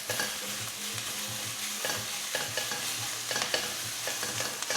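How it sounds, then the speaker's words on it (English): Stir fry sauce hits a hot pan of Asian vegetables and tofu, bursting into a loud, steady sizzle with scraping stirs and clatters of the utensil throughout. "And we can chuck in our stir fry sauce."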